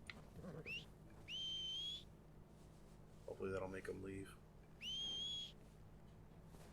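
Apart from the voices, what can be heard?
character whistling to scare animals away, from video game Red Dead Redemption 2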